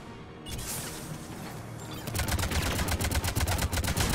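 Rapid automatic gunfire in Mass Effect 3 during a push toward an enemy command center, starting sparse and loud, then settling into a dense, steady stream of close shots over a rumbling game background.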